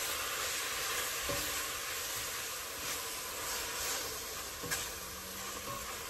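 Vegan French dip filling fries in a pan with garlic powder and rosemary, giving a steady close sizzle with a couple of stirring scrapes and no voices.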